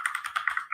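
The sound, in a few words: typing on a computer keyboard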